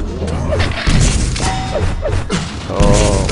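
Rockets explode in a Quake duel, loud crashing thuds and booms landing in quick succession amid constant game noise, with several sharp impacts and a rising whine near the end.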